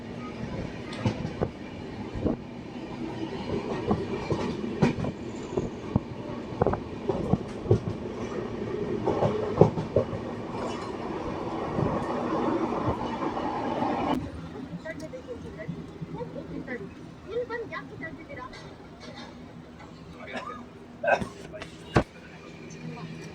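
The Hampi Express train rolls along the tracks between Mysore and Hubli with steady rumbling and intermittent clacks and squeals, while people talk over the noise.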